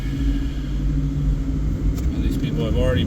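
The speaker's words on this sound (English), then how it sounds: "I'm just stuck here in traffic." A steady low rumble of car traffic surrounds a stuck vehicle, continuous and close. Someone talks faintly over it.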